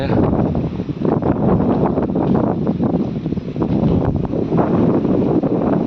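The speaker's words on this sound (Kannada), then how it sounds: "ಎಷ್ಟು ಗಾಳಿ ಇದೆ" Loud, constant wind gusts rumble and batter the microphone without pause, a harsh low roar filling the whole stretch.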